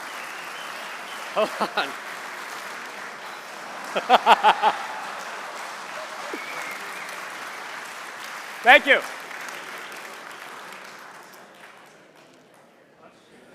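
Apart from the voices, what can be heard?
audience applause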